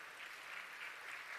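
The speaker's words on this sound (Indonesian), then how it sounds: "Kita tepuk tangan untuk" Audience applause at a Hari Santri 2024 evening event honoring an orchestra of pesantren students, a steady dense clatter of clapping, fairly faint and distant, with no voices over it.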